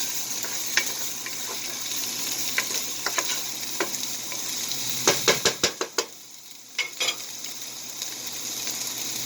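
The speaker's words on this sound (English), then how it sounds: "So I'm just going to saute these onions up" Onions sauté in a pan with a soft, steady sizzle, punctuated by sharp clicks and scraping taps from stirring, with a brief cluster of quick knocks midway.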